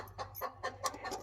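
Hens clucking at their egg-laying spot on a farm, several short, close clucks and squawks in quick irregular bursts with no talking.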